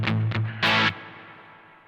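Electric guitar through a Vahlbruch Pipeline Reverb pedal set to maximum reverb: two short notes and a strummed chord, followed by a long, fading wash of reverb tail. Played alone and close, with no voices.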